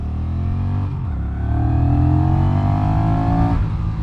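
A Honda Rebel 1100 motorcycle engine runs close and loud with a steady throbbing drone, swelling in pitch and volume as the throttle opens midway, then easing slightly near the end; no voices.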